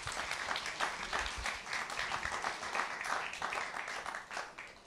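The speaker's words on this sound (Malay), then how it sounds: "Tepukan bagi Rosmaini Buang" A crowd applauds Rosmaini Buang, a gamelan musician, at a Heritage Day 2022 event: dense, steady clapping that fills the room and holds at an even level for the whole stretch, with no one speaking over it.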